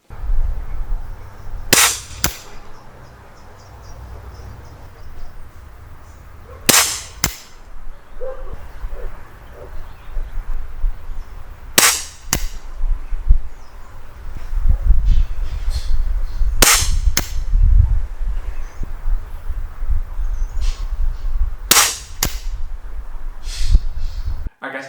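Gamo CFX .177 spring-piston air rifle, brand new, firing pellets: five sharp, loud cracks spaced roughly five seconds apart, each with a brief spring twang, over a low background rumble and a dog whimpering and yipping at times.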